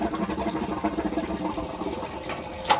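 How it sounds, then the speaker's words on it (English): Water gushes from an opened laundry sink faucet on a domestic water line, a steady, close, churning rush with gurgling surges and a sharp splash near the end, with no talking over it. "open up a couple faucets, preferably, here it comes, preferably a laundry sink."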